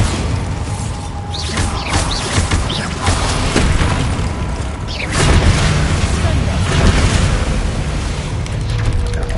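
Explosive blasts from the Bombarda spell in Hogwarts Legacy, a dense, loud barrage of booms and crashes with mechanical clatter, building in force around the middle and staying heavy to the end, with a voice speaking over it.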